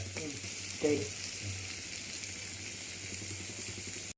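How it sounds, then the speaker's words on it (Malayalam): Chicken frying in a hot pan gives a steady, close sizzle with a brief louder crackle near the start and a low hum beneath, and no one speaks. "ഇതാ ചിക്കൻ പൊരിച്ചുകൊണ്ട് നിൽക്കുകയാണ്"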